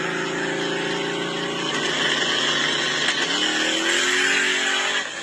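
A turbocharged muscle car engine revs hard and loud at close range, its pitch climbing and holding in a sustained roar with a whistling turbo edge and no talk.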